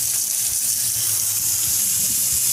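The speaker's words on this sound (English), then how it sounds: "Now we are going to spray a lot of water in the spray like on the disc." A pressure washer sprays a bicycle, aimed at the disc brake, in a steady, loud hiss of water with no break over the whole stretch.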